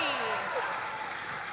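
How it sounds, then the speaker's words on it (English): Audience applause at a cosplay contest, a brief steady patter of clapping from a crowd heard under a voice that dominates it. "the biggest round of applause"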